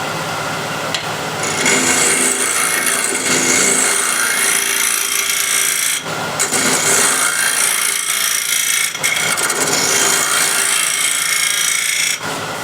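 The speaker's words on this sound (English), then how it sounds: "I'll use a scraper." A hand scraper works the wooden surface of a small heirloom box in a workshop, making continuous rough scraping strokes in long passes with brief breaks, fairly loud and close.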